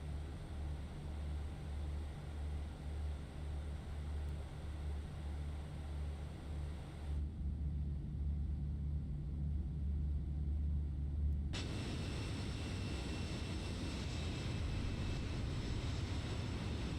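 Steady engine drone of a Fenix A320 airliner in a flight simulator game, a low continuous rumble with layered hum that briefly drops to a muffled cabin tone before the fuller engine roar returns.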